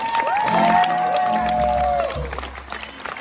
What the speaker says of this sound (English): Y'all give Abbey another round of applause, huh?